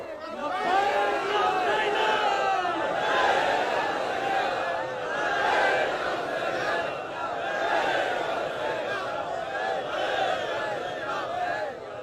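A large crowd at a rally chants slogans in loud, rhythmic unison, the massed voices rising and falling continuously without a break.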